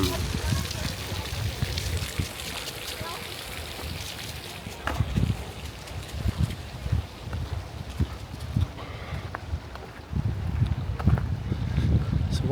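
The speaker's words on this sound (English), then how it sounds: "It's getting really windy" Strong wind buffets the microphone outdoors in a Munich garden, gusting in loud low rumbles throughout while people talk nearby.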